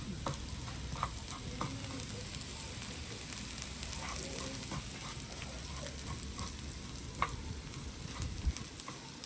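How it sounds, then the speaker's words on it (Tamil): Fenugreek seeds frying in hot oil for a dried Maldives fish gravy, a constant dense sizzle with occasional light stirring scrapes and clicks, close and steady throughout without speech. "சிவந்துட்டு வெந்தயம் ரெடி நாங்கள் எல்லாத்தோடையும் சேர்த்து கலப்போம்"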